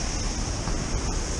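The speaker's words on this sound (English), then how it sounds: "what's making that noise is an awesome waterfall down there" A steady, powerful roar of a waterfall along the TransPennine Trail, broad and unbroken, filling the whole moment.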